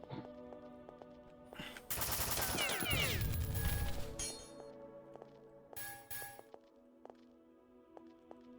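Sniper pistol gunshots in the video game The Citadel, a dense burst of loud, sharp cracks with ringing metallic tails for about two seconds, then scattered fainter shots and clinks over a steady low game hum.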